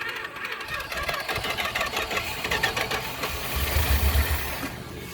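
A weak-starting 1976 Chrysler Newport, revived after eight years, sputters and rumbles unevenly as it struggles to keep running, a rough mechanical chatter that surges louder near the end before fading.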